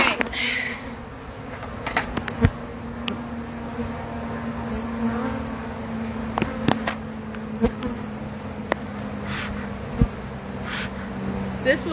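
Honey bees buzz around a new hive in a low, continuous drone, with individual insects zipping past the microphone and scattered small knocks and clicks over the steady hum.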